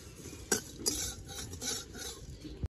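Fenugreek, fennel and cumin seeds dry-roasting in a pan while a spoon scrapes and stirs them, giving a few sharp clinks over a soft, steady rustle close by.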